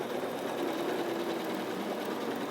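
Intelliquilter computerized quilting machine stitching steadily on its own, a continuous close mechanical hum with a rapid even stitching rhythm that holds at a constant level throughout.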